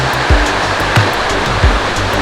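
Steady broadband rushing of a waterfall on Ricketts Glen's Falls Trail in Pennsylvania, loud and continuous, with a few low thumps; no voices.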